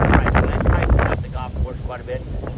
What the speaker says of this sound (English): Predominantly left to right wind out of the south.